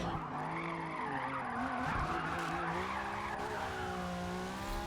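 Tires squeal in a sustained skid in a drift car video game after a clutch kick, with a steady engine drone beneath that wavers in pitch throughout and no speech.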